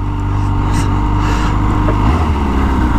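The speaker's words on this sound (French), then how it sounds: "Elle fait un bruit assez particulier quand même cette moto là" A Kawasaki H2 SX motorcycle with a supercharged 200-horsepower engine runs close by with a loud, deep, steady drone that shifts tone near the end, while someone talks over it.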